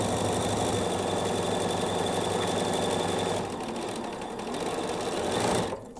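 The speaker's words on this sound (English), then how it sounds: "we're just going to sew to the end" A sewing machine runs steadily and close by, stitching quilt fabric through to the end of a seam, its motor whirring continuously and easing slightly near the finish before stopping; no one speaks.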